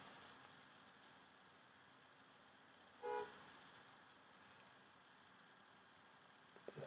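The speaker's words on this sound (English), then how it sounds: "Somebody's honking at me." A single short car horn toot sounds once around the middle, faint and somewhat distant over a steady hiss of background noise, with no voices.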